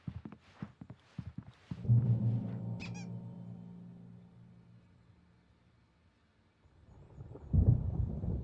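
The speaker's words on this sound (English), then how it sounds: "There's a storm coming. Oh, what a storm." A thunderstorm in the Alan Wake Remastered video game: a few sharp cracks give way to a deep, rolling thunder rumble that slowly fades, then another low thunderclap swells near the end.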